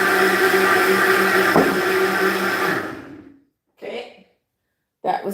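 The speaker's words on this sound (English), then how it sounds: "I'm just gonna blend this out." A blender whirs loudly and continuously while blending plant-based food for meal prep, winding down and stopping after about three seconds, followed by two short bursts of voice.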